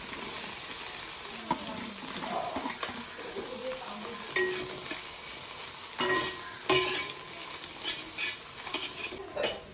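Egg frying in a pan with onion and capsicum sizzles steadily under repeated spatula stirring and scraping, close up, with a few sharper clinks of utensil on pan and no talking.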